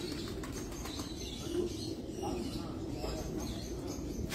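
A racing pigeon held in the hands on a Dubai rooftop gives soft wing flutters and faint coos under low background murmur, with a voice or two speaking quietly nearby.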